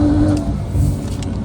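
A Porsche 911 Carrera T, fitted with upgraded turbos and a tune, accelerates hard, giving a loud, steady low engine roar with a rising tone through the brief burst.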